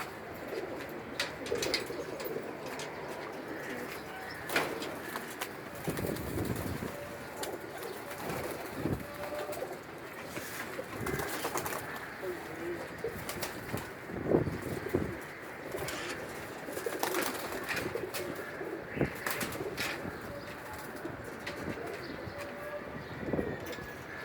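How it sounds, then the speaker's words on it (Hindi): Pigeons coo repeatedly in soft, low bursts amid rustling and scattered knocks and flutters, fairly close. "ये कबूतर है जो कि पकड़ा और बड़ा मुश्किल से पकड़ा"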